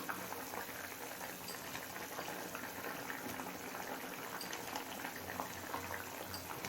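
Curry of raw plantain with fried rohu-style fish pieces bubbling hard on a high flame, a steady, dense boil with continuous popping and gurgling held at an even level throughout, close and fairly loud, no voices.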